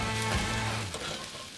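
Salted mushrooms fry in a pan of oil while cooking venison stroganoff, giving a steady, close, even sizzle with no voices.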